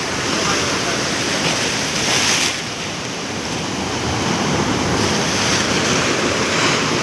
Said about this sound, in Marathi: लाटा बघा कसले येतात ते.